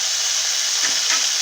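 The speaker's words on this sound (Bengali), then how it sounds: "আপনারা এইভাবে সব সবজি হালকা করে ভেজে নিয়ে করবেন" Vegetables and peas lightly frying in a pan for puja khichuri: a steady, close hiss of sizzling oil, loud and continuous, with a faint stirring scrape near the end and no talk.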